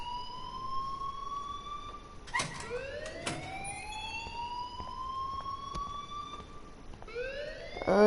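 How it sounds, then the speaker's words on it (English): An alarm blares inside the video game Life is Strange, a loud electronic wail that repeatedly sweeps upward in pitch and holds, with short bursts of harsher noise between the rises. "please turn off that alarm since that's your job"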